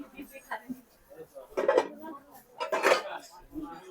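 A cast iron grill pan with two side handles clatters in two loud metallic bursts of handling, knocking and scraping close by, with a person talking over it.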